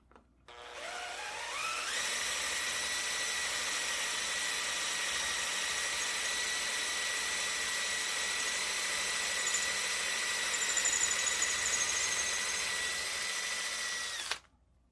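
Power drill boring holes freehand through a wooden Kar 98 rifle stock backed by a block, a steady high whine spinning up and holding for about twelve seconds close by before cutting off.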